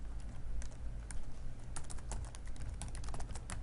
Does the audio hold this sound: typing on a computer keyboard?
yes